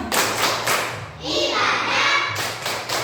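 A group of children clap together in a rhythmic pattern during a classroom activity, bursts of close hand claps in short sequences with brief pauses between them.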